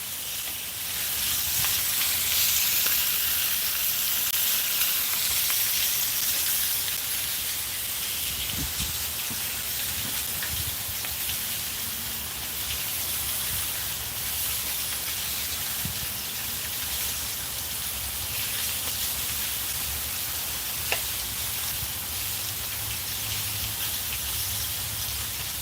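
Skirt steak sizzles steadily in a hot pan, a dense continuous hiss with faint crackles and an occasional soft clatter throughout.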